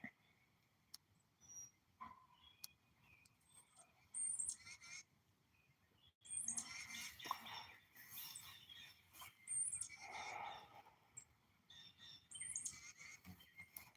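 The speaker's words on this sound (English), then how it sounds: "These freaking birds are so confused." During a solar eclipse outdoors, scattered bird chirps and calls sound faintly and intermittently over a soft bed of insect buzzing, with bursts of activity clustering in the second half.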